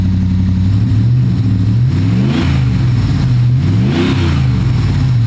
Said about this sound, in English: Let's rev it up.